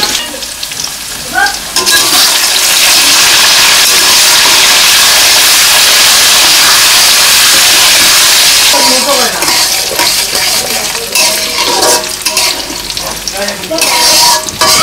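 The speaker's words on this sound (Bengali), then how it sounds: "তো তেলের মধ্যে আমি কিছু কাঁচামরিচ দিয়ে দিব, তারপরে দিয়ে দিব কিছু মাছ কলাইয়ের ডাল," Green chillies and mash kalai lentils fry in hot oil in a village-style kitchen, making a loud, steady, close sizzle and hiss throughout, with brief stirring scrapes.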